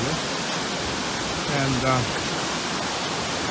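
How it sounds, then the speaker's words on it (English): Loud cascade feeding the main river beside the Fairy Pools Trail on the Isle of Skye, a steady broadband roar filling the whole stretch, with a voice briefly audible over it. "kind of cascade entering the main river here from the left. Rather loud actually,"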